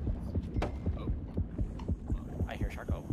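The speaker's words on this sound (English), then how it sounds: "I hear my heart beating." A muffled, rhythmic heartbeat thumps steadily at low pitch in the underwater shark video game Depth, with a droning hum and creaks beneath it.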